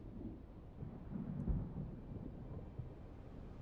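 Rumbling approach of a large sandstorm in Dune: Awakening, a low continuous wind roar with a heavier gust-like swell midway, moderately loud and without voices.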